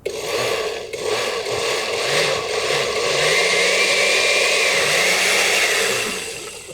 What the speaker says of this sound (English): Pulse until everything is rough chopped and combined in the blender.